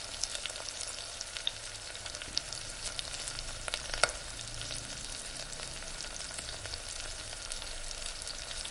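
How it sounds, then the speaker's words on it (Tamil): Quail pieces fry in a pan for quail thokku, giving a soft, even, constant sizzle with scattered small crackles and an occasional light tap. No one speaks. "நல்லா ஒரு ஃபியூ செகண்ட்ஸ் வரைக்கும் கலர் சேஞ்ச் ஆகிற வரைக்கும் நம்ம இதை ஃப்ரை பண்ணிக்கலாம்"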